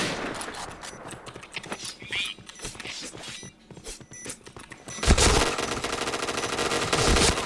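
Rapid automatic gunfire from the online shooter game Point Blank, dense bursts of shots with mechanical clatter, growing louder and continuous in the second half, with no voices over it.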